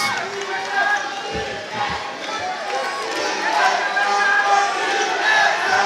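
A basketball crowd at a FIBA AmeriCup pre-qualifier game between Grenada and Surinam chants defense, a steady roar of many voices with rhythmic shouting under a commentator's voice.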